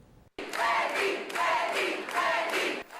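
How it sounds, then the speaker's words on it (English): A crowd cheering for Wendy Davis, the Democratic state senator from Fort Worth: loud, sustained whooping and shouting in repeated swelling waves, close and dense, with no clear talk over it. "The crowd goes wild for Wendy"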